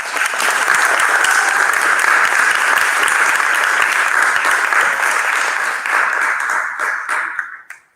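Loud, dense applause from an audience at a fifth-grade school promotion, steady for several seconds before tapering off into quiet, with no talking over it.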